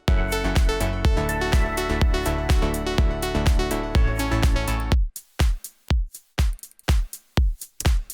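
An electronic drum track in a 16th-note rhythm, first heard dense with a sustained tonal bed, then reduced to tight, punchy drum hits with sharp gaps between them after clipping and compression.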